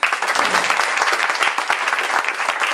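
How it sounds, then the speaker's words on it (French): Concert audience in Sansais applauding at the close of a live show, a dense, steady wash of many hands clapping close and loud for the full length without pause. "J'aimerais qu'on les applaudisse"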